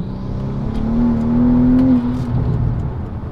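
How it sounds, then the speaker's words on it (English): A car's engine revs steadily as its tires spin without traction, a loud continuous droning whir that rises in pitch midway and then settles, close by and alone without talk. "you can definitely hear it, that the car is not making contact and it's just continuously spinning."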